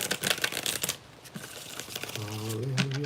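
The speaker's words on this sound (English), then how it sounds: "I'm just taking a minute here to shuffle a little bit." Playing cards being shuffled at a live intuitive reading session, a quick burst of crisp riffling and flicking up close, then a soft voice comes in briefly over the last moments.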